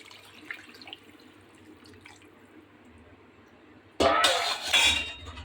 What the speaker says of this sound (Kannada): ಜಾರಲ್ಲಿರೋ ನೀರು ಹಾಕ್ತೀನಿ.